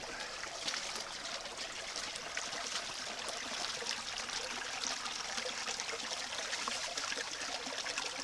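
A low-flowing creek at Nelson Creek, New Zealand, near a gold-mining sluice setup, trickles and babbles in a steady, even wash of water that stays fairly faint throughout with no voices.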